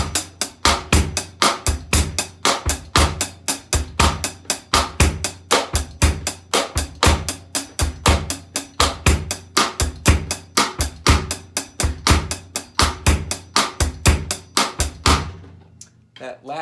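Drum kit plays a steady Latin beat, sharp clave-like clicks and hi-hat strokes over a thumping bass drum in a repeating pattern, close and loud, stopping abruptly near the end.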